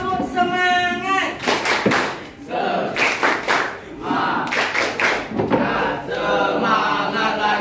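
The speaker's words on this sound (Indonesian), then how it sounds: "Tepuk semangat." A class of ninth-grade students in a mathematics lesson does a rhythmic spirit clap, with bursts of hand claps and group shouts while a teacher's voice leads.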